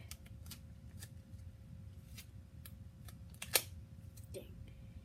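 Scissors snip through tape while making a DIY snap bracelet, a few soft close cuts over a steady low background hum, with one sharper, louder snip near the end.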